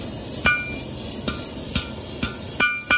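Hammer blows strike heated bronze worked over the edge of an anvil while forging a leaf, six sharp ringing metallic hits at uneven intervals, loud and close, with no talk.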